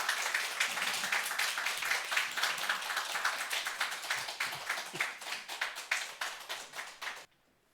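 A church congregation at a Sunday service claps to welcome a missionary to the pulpit. The clapping is brisk and fairly close, with individual claps distinct, then it stops abruptly into silence.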